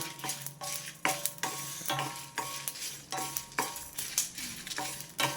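Dry red chillies and coriander seeds frying in a pan, with a soft sizzle under regular scraping strokes of a spoon stirring, each stir a short sharp scrape repeating about twice a second.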